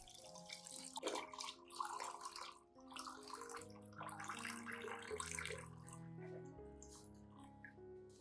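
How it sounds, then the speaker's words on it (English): Clean room-temperature water being poured to dilute a plant-care solution for a Christmas cactus, a steady close trickle and splash lasting several seconds, with no voices. "add 500 milliliters of clean water at room temperature to dilute the solution"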